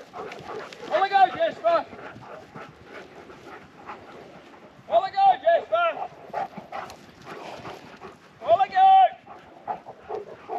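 A small dog barks in three short bursts of several yaps each, fairly close, among outdoor sheep-yard activity with a man calling out and talking between barks.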